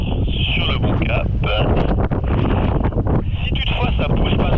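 Strong wind roars across the microphone while flying a paramotor wing in crosswind, a loud continuous rushing gust noise with brief dips, a voice talking faintly underneath.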